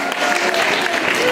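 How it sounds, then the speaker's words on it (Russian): Applause at an award ceremony for an aerial silks competition: dense, steady clapping from an audience, fairly loud and continuous throughout the short moment. "Аплодисменты нашим красавицам."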